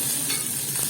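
Ginger, garlic, green chili and onion fry in a pan for a white radish thoran, a close, even sizzle with stirring that runs through the brief moment without a pause.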